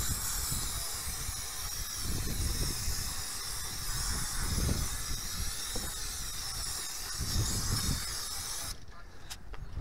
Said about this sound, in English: Then we come in with the brake cleaner and you'll just see how it flushes out all the dirt.